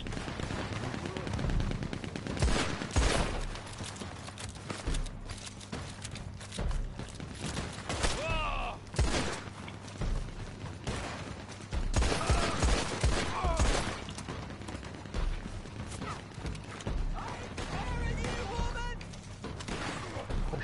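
Machine gun fire in Red Dead Redemption 2 rattles in repeated bursts with scattered single shots and thuds throughout, while players talk over the gunfire.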